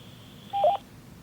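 A short electronic confirmation beep from a Motorola T82 Extreme two-way radio, a brief two-part tone about a quarter second long, over a faint steady hiss in an otherwise quiet background.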